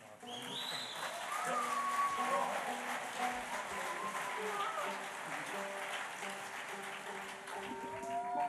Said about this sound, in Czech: Takový potlesk si zaslouží dva přídavky.